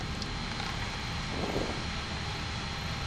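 Boeing 737 jet engines run at a steady roar after starting and stabilizing, heard from the cockpit as a constant broadband hum with a faint high whine and no talking.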